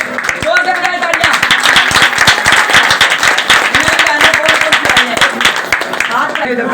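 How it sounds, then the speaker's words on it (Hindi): A congregation at a Sunday revival meeting claps loudly and rhythmically in unison, close and strong throughout, with voices heard over the clapping. "जोर से बजाइए तालियां"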